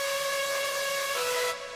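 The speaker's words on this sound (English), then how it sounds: "There's a noise oscillator here that's actually modulating the pitch." A synth patch holds a steady pitched tone whose pitch is jittered by a noise oscillator, giving a buzzy, slightly wavering sustained note that cuts off near the end, played alone.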